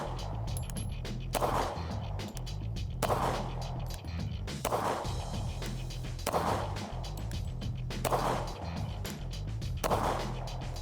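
Kahr CT45 and CT40 pistols fire a steady string of sharp shots at a range, about six evenly spaced cracks a second or so apart, each with a short ringing decay.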